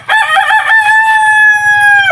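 A rooster crows loudly and close by, one long drawn-out call with a rising start and a sustained ending, with no talking.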